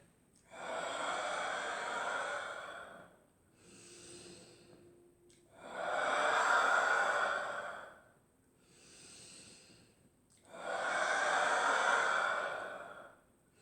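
Slow, deep breaths in a breathing exercise, long airy inhales and exhales alternating with soft pauses, close and unhurried, each breath swelling and fading over several seconds.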